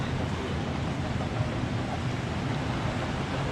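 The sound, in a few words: beach with wind and waves in Satun, Thailand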